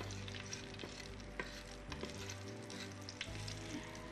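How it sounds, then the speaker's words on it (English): Garlic stir frying in a hot pan of oil, giving a steady, quiet sizzle with scattered soft clicks and scrapes of stirring throughout. "Put in your garlic and stir fry to brown your garlic."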